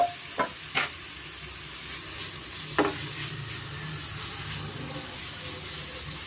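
A spoon scrapes and stirs grated coconut in a pan over medium flame a few times over a steady low sizzle, with brief sharp knocks against the metal.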